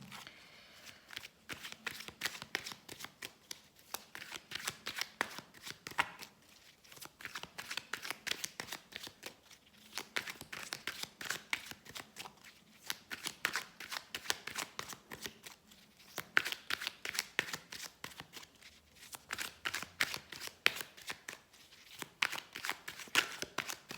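Tarot cards shuffled by hand in repeated bursts of crisp riffling and flicking, close and steady, with short pauses between rounds and no voices.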